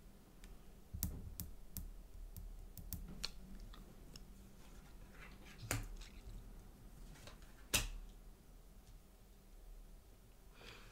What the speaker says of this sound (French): Sachez que je mélange très très bien les cartes